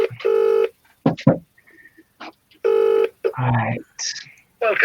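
Phone tones from a call being dialed sound twice as loud steady beeps lasting about half a second each, with people talking in between and a brief higher tone near the end.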